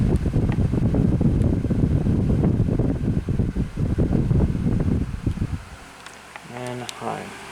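A Windmere 12-inch oscillating table fan, model DF-12, runs with a loud, rushing whoosh close to the microphone, then cuts to a quieter hum near the end as a voice speaks over it.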